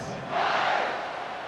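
A big stadium crowd roars before kickoff in the video game College Football 26, a dense sustained cheer swelling briefly then holding steady, distant and broad.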